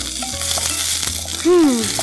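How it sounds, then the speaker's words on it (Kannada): Onions frying in a pan until golden brown, a steady sizzle with soft stirring throughout and a brief louder tonal scrape near the end, close and moderately loud with no talking. "ಸೊ ಇದು ಗೋಲ್ಡನ್ ಬ್ರೌನ್ ಆಗೋ ತನಕ ಫ್ರೈ ಮಾಡ್ಬೇಕು"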